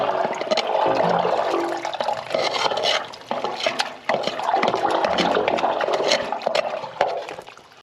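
A toilet flushes forcefully after a blocked drain has been cleared, a loud sustained rush and gurgle of water that swells and dips over several seconds, heard close with no talk.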